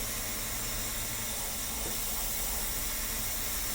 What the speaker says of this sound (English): Spray flux on the first joint.